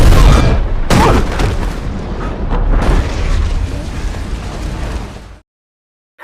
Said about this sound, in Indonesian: menyambar minyak di sekitar lokasi sehingga memicu ledakan yang sangat